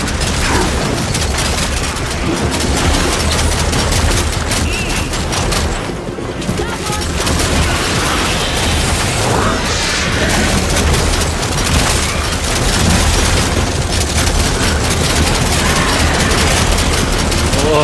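Rapid bursts of gunfire from a VR zombie-shooting video game crackle almost constantly with booms and mechanical clatter, with people talking underneath.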